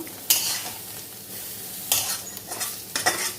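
Sliced bitter gourd frying with little oil in a pan, a low constant sizzle punctuated by a few brisk spatula scrapes and stirs, close by.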